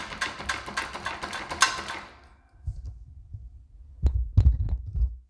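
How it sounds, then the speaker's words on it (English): Schwinn Airdyne exercise bike running with a loose back chain, giving a rhythmic low thumping and throbbing knock after a brief burst of brighter mechanical rattle, fairly close and moderately quiet. "here is what it looks like with the back chain loose"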